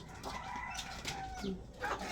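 Backyard chickens give short clucks and a faint, brief crowing call at moderate, steady loudness over a low background, with no talk.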